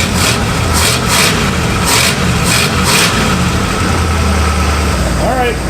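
A Pontiac engine, revived after sitting abandoned for twenty years, idles smoothly as a low steady hum beneath nearby talking and some clattering handling noises.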